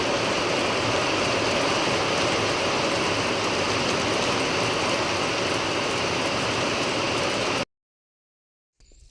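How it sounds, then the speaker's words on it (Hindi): Heavy rain pours down in a dense, constant hiss for about seven and a half seconds, then cuts off abruptly into near silence. "यहाँ पे बारिश स्टार्ट हो चुकी है"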